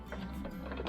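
A sewing machine back stitching at the end of a seam on a two-tone snack bag gives a short, soft burst of quick mechanical whirring and ticking, close by and fairly quiet, with no voices.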